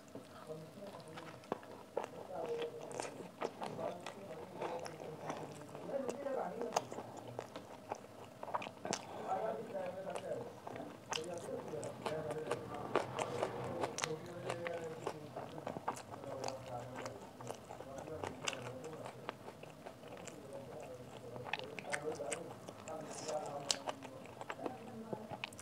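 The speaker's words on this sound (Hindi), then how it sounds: "big bite" Someone bites and chews homemade Indian food such as puri, papad and curry, with soft crunches and wet chewing close to the microphone, faint and intermittent, with low murmured speech in places.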